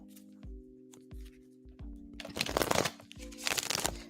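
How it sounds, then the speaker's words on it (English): A deck of tarot cards is shuffled in several soft riffles and rustles that grow louder toward the end, with a low steady hum underneath. "I'm shuffling for you now."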